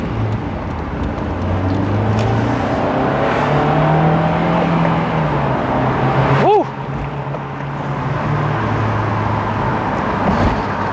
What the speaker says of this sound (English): I'm just gonna stay quiet now and let you enjoy some driving while we head back to Honda West